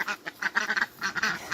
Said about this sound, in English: I thought I would show you the ducks. They're so loud.